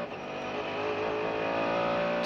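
Onboard a 1999 Mercedes CLR race car at Le Mans, the engine screams under hard acceleration onto the straight, a loud, steady high-pitched wail with rising tone, close and unbroken, no talking.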